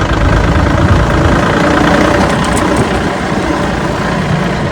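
A four-wheeler ATV engine idling nearby outdoors, a constant, loud, low chugging rumble that holds steady without revving for the whole stretch.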